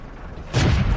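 A single heavy boom from the M10 Wolverine tank destroyer's gun in World of Tanks, a sudden loud blast halfway through that keeps rumbling to the end of the clip.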